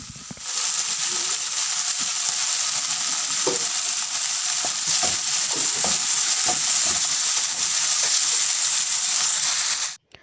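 Chicken pieces sear with Italian herbs in a pan, giving a loud, steady hiss of sizzling oil for about ten seconds, dotted with light scraping and tapping as the pieces are stirred, before cutting off abruptly.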